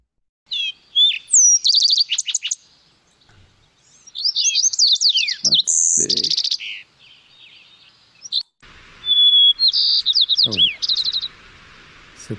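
Sparrow song at Lake Tahoe, three bursts of bright, melodious whistled phrases and trills, each opening with a lower whistle, clear and near with short silences between.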